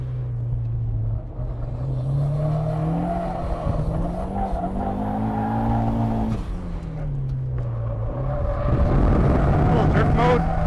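A turbocharged Mazda Miata drifts, its engine droning loud and steady with pitch rising and falling, tires squealing through the slide, and the engine swelling louder near the end.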